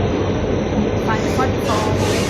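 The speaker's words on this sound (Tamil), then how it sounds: "இப்போ ட்ரெயின் ஏறி இப்போ தான் கிளம்பவே போகிறோம்." A train rumbles steadily as it starts to depart, loud and close, with faint rail squeal and clicks over a constant low roar.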